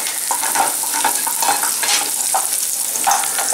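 Food frying in a pan during bottle gourd phirni preparation, giving a steady, dense crackling sizzle close by with faint stirring textures throughout and no voices.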